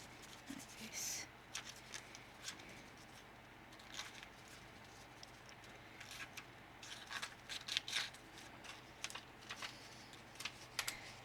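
The edge of a pair of scissors scraped along paper edges to roughen and distress them for a document folio, giving faint, irregular scratchy strokes in short bursts.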